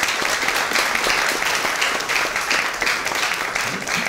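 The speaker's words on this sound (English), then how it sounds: "A warm round of applause please for Len Brown." An audience at a session on making Auckland a supercity claps for Len Brown, a steady, dense wash of applause that holds at full strength throughout without talk.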